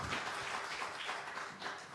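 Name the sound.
congregation applauding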